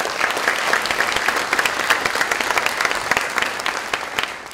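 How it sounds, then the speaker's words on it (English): Audience applause at a city mayor's State of the City address, dense continuous clapping from a crowd in an auditorium, loud and steady throughout with no speech over it. "And please give them a round of applause."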